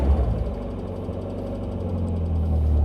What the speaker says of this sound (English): The engine will now continue to run without cutting out.